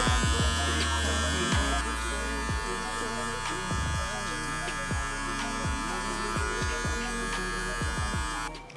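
Electric hair clippers fitted with a number 1 guard, lever open, cut guidelines for a low fade in a barber setting, a steady close buzz running throughout with repeated short strokes and clicks as the blade moves through hair.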